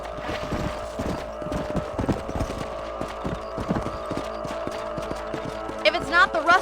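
Horse hooves clip-clop steadily on a trail in the Red Dead Redemption western video game, a rhythmic run of hoof falls under ambient game sound, with a horse snorting and whinnying briefly near the end.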